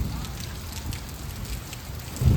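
Light rain falls steadily in a market area, a soft continuous patter with a louder low rumble building right at the end.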